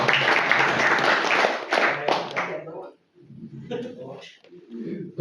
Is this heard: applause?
yes